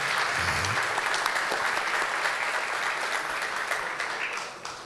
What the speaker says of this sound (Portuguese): Uma salva de palmas que ele merece.